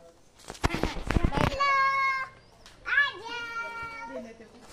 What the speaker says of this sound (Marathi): आमची मांजरी कशी चालल बघा